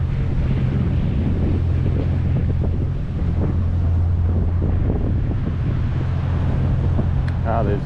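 Strong wind buffeting a microphone by the water near Fort Sumter, a loud constant rumbling roar with low engine-like hum underneath, steady throughout.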